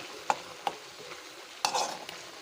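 Masala for a Punjabi rajma curry frying in oil in a pan: a soft continuous sizzle punctuated by three or four sharp spoon taps and scrapes, close and fairly quiet, with no speech.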